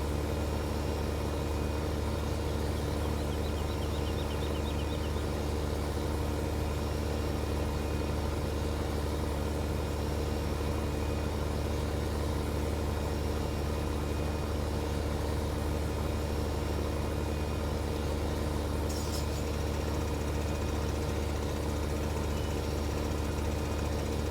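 Dakota E9 tractor engine in Farming Simulator 15 hums at a steady, unchanging drone throughout, a continuous low rumble with no talking.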